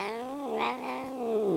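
A grumpy cat growls and caterwauls in a long, drawn-out, wavering yowl that rises and dips, loud and close, with no talk over it.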